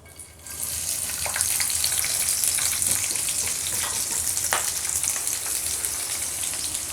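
Finely chopped onions and green chillies fry in hot oil in a home kitchen, giving a loud, dense sizzle that starts abruptly and holds steady throughout, with scattered pops and crackles.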